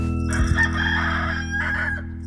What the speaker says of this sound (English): There's a cockerel going cock-a-doodle-oo.